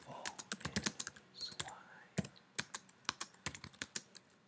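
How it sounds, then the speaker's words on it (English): Lyrics are typed into Finale 2014 music notation software on a computer keyboard, a quiet close run of irregular key clicks with short pauses, some quick bursts and a few faint background noises. "now I'm going to add the lyrics. I'll type them in right here."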